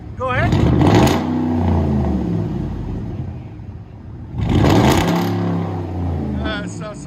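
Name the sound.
Ford F-150 5.4L Triton V8 revving with straight-pipe dual exhaust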